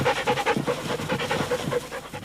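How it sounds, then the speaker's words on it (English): A police dog pants rapidly and steadily close up, a rhythmic run of quick breaths with no talking. "the Valley is home to some of the finest police dogs in the entire world"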